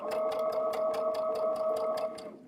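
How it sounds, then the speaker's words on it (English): A sewing machine runs a straight stitch through fabric, its needle thumping in a quick, even rhythm with a steady motor whine, close and clear for about two seconds before slowing at the end. No one speaks. "I've sewed about a 1/2 inch on my fabric, just a straight stitch."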